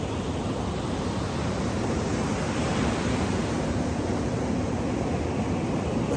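Steady ocean surf washing continuously, a dense, loud, even roar of breaking waves with no distinct individual crashes and no voices.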